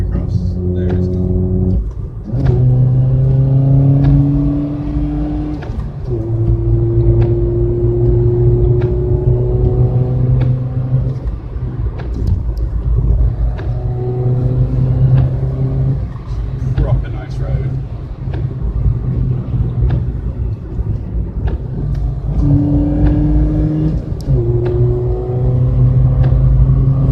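Ford Fiesta with a 1.25 engine driving along scenic country roads, its engine droning and rising in pitch through repeated gear changes, steady and close, with a voice speaking over it at times.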